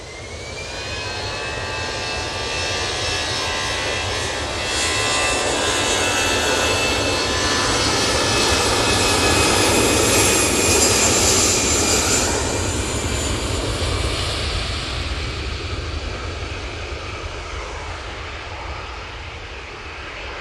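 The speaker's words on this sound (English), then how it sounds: "Off to Amsterdam with that A320-200." An Airbus A320-200 airliner departing Manchester Airport for Amsterdam gives a loud, sustained jet roar that swells to a peak midway and then slowly fades, with no talking.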